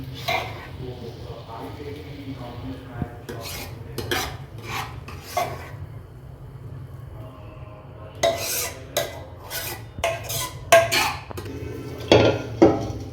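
Potato and mixed vegetable paste for pav bhaji stirred in a pot, wet scraping and knocking strokes of a spoon against metal coming in bursts that grow louder and busier, over a low background hum.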